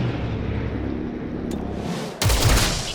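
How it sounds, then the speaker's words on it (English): Gunfire erupts in XCOM: Chimera Squad, a steady bed of combat noise broken by a sudden sharp, loud burst of shots near the end. "obviously we're just going to go ahead and start shooting"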